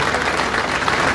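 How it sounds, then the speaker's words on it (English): An audience gives a round of applause for a school principal at a gathering, a short burst of dense, continuous clapping. "Give him a round of applause."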